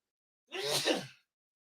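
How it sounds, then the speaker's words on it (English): A single sharp sneeze, close and fairly loud, bursting out after a brief breathy intake and then stopping. "Oh God, I got to sneeze."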